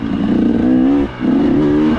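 Dirt bike engine with a stock crank and roughly 350 hours of use revs up loud and close, holding a steady high drone, dipping briefly before revving up again.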